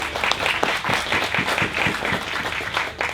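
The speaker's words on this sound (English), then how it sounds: "we need a bigger round of applause" An audience at a British Touring Car Championship Q&A session at Brands Hatch applauds with sustained, dense clapping, close and fairly loud throughout, with no talking.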